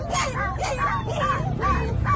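Several dogs bark and yip in short repeated bursts, with whiny, high-pitched calls over a low rumbling background.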